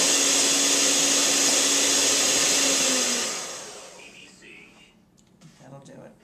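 An electric mixer runs on turbo, whipping a batch to stiff peaks with a loud, steady high whir for about three seconds before it cuts off and leaves only quieter, scattered sounds.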